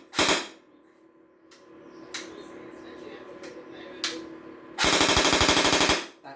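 An airsoft gun with a sticky fire selector stuck on two-round burst fires short, sharp bursts of rapid pops, with a brief burst at the start and a longer, louder string near the end, separated by quieter handling noise.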